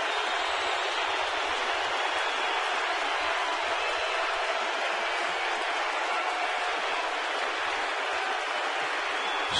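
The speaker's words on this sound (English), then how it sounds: "And the crowd gets into it now. Sellout crowd here at AT&T Park." A sellout baseball crowd at AT&T Park gives off a steady, dense roar of cheering that holds at the same level throughout with no break.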